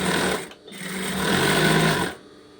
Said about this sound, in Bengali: এভাবে পুরোটা সাইড সেলাই করে নেবেন